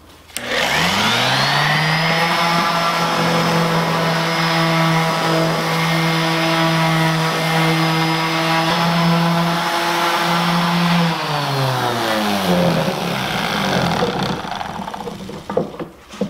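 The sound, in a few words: electric sander sanding with sandpaper disc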